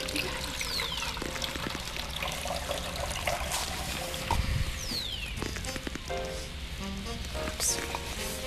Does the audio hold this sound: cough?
no